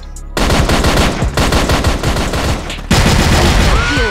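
Loud, rapid automatic machine gun fire from a shooting video game, sustained bursts with a brief pause before a second volley, no talking.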